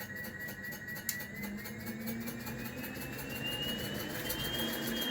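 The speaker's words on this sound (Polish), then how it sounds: "Czyli silnik chodzi." The small motor of an ElMoto electric bike in first gear hums steadily with a thin whine that slowly rises in pitch, quiet and continuous with no voices.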